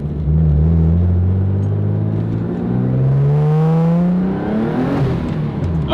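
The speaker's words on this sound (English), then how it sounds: "was a little wheel spin. Didn't expect to spin the tires." A Nissan 300ZX accelerates hard with some wheel spin, its engine giving a loud rumbling drone whose pitch climbs steadily, drops with a gear change, then climbs again.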